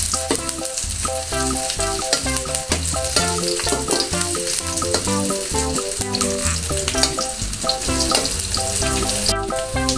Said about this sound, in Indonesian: Tumis sampai wangi ya Bunda.